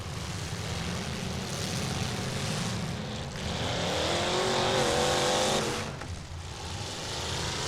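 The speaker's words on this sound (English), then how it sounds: "I just heard that engine a-roaring." Youth fullsize race car engine roaring at a dirt track event, a loud sustained engine howl with rising and falling pitch as the car passes, heard alone.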